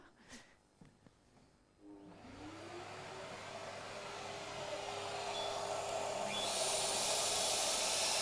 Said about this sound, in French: Je vais venir allumer mon aspirateur.